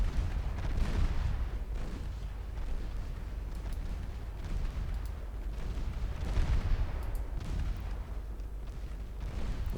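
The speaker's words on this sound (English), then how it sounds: "6-inch guns are in range." Naval 6-inch guns firing during a sea battle in Ultimate Admiral Dreadnoughts, several heavy booming shots spaced irregularly across a steady low rumble of distant gunfire and impacts, with no talking.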